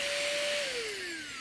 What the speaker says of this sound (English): when you use the vacuum